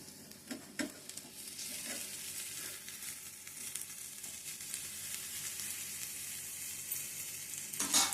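Fish pieces fry in a pan with a faint, steady hiss, a few soft scrapes and taps early on and a louder clatter near the end, no talking.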